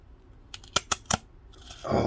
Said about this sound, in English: let's see if it cuts with scissors